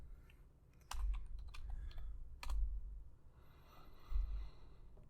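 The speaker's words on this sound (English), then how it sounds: "I'll just go ahead and type in B-Day." A few quiet key taps on a computer keyboard as a short project name is typed, sparse and close in a calm room.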